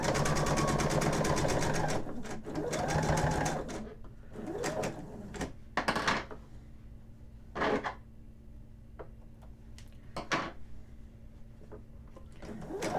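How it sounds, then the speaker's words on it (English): A sewing machine runs a fast, steady stitching burst on a men's shirt placket, then stops, followed by quieter handling clicks and brief whirs of the machine. "And now I'm sewing over the first row of stitching."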